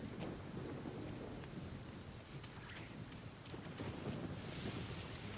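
A low, rolling thunder rumble rises under a steady wash of rain in the video game Genshin Impact. The storm stays fairly quiet and continuous throughout, with no voices.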